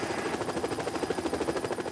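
A helicopter flying in the mountains gives off a steady, rapid rotor chop that beats at an even rhythm, fairly loud and continuous with no talk.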